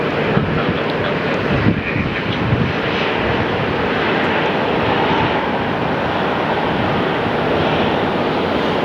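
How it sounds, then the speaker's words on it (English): An American Airlines jet rolls for takeoff at Phoenix Sky Harbor airport, a loud continuous engine roar heard from a distance with steady broadband rumble and no talking. "American 921, finally on the takeoff roll"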